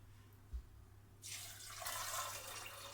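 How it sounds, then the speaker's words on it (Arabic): Water is poured into a cooking pot for a traditional Egyptian bessara, a soft steady splashing rush that starts partway in and continues, faint and close. "هنحط المية"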